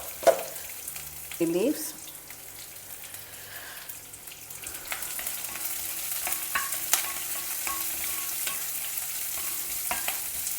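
Sliced onion sizzles and is stirred in a pan for a South Indian vegetable dish, a soft, steady fry with scraping of the spoon, preceded by brief speech and a light clatter.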